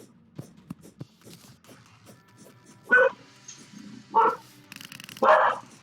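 A dog in the game Terraria barks three times in spaced, fairly loud bursts over quieter game sounds.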